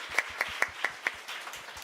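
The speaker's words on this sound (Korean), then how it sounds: "のその方に拍手を送ります。" A church congregation claps in a short, quiet burst of about five distinct claps in an even rhythm, fading into softer scattered taps.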